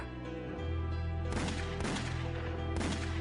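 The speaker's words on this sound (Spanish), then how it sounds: "Sin decir una palabra, Chapman le dispara" Three sharp gunshots from a handgun in a dramatized reenactment of John Lennon's 1980 shooting, spaced unevenly over a sustained droning musical background, with no talk.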